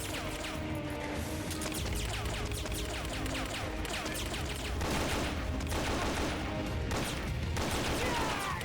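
AK rifle fire in the video game Metal Gear Solid: Peace Walker plays as dense, continuous bursts of gunfire and crashing impacts, loud and unbroken throughout.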